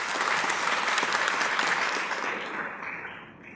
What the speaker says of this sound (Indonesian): Tepuk tangan untuk Kang Randy Saputra.